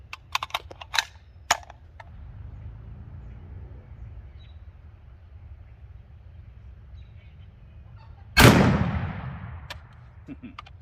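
A 400 Legend rifle with a 16-inch barrel fires a single 140 grain Extreme Penetrator round into a gel block from close range: one loud, sharp blast with a short decaying tail, preceded by faint clicks and quiet handling.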